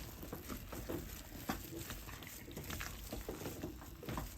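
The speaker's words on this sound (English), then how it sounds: "so now it's starting to boil" Chicken gnocchi soup bubbles at a steady boil in a pot as gnocchi are added and stirred, giving a dense, continuous wash of close bubbling and liquid patter with no pauses.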